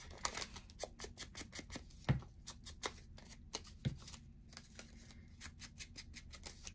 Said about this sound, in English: I'm going to go ahead and ink it now to make my life easier later.